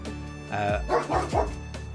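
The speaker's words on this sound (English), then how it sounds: "Apologies for Daruk's barks" A dog gives a short run of yips and bow-wow barks, three or four close, fairly loud bursts with whimpering pitch slides, heard alone without talk.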